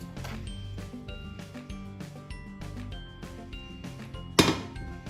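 A frying pan is handled with repeated metallic clinks and knocks while a spoonful of butter goes in, ending with one louder clatter close by.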